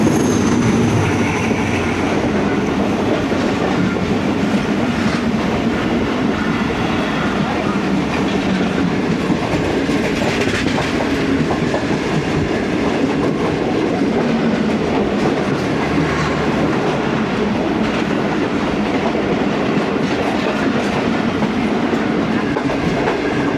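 An Eid special train running from Rohri to Lahore rumbles loudly and continuously as it approaches Raiwind Junction, with a steady rattle and clatter of the cars.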